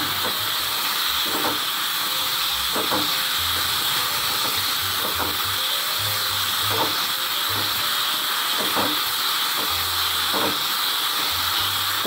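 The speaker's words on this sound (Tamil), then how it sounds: "தக்காளியை போட்டுட்டு நல்லா வதக்கிக்கணும்" Tomatoes sautéing for a quick beginner-style sambar give a steady, loud hiss throughout, with periodic scraping clicks from a spatula against the pan and no talking.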